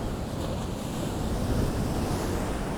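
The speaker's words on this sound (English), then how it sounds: "trying to find somewhere without so much wind and sea noise." Steady wind buffets the microphone over a constant roar of sea surf on an exposed coastal hillside. The noise is dense and unbroken, with no voices.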